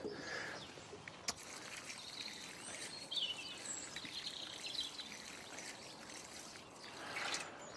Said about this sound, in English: and water it really well